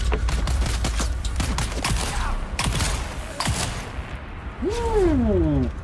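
Gunfire from a slow-firing gun in the video game Dune: Awakening: several separate shots as sharp broadband bursts amid busy game noise, with a rising and falling whine near the end.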